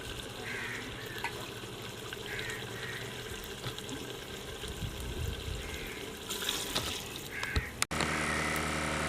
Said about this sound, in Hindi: अब पानी शामिल कर लेते हैं।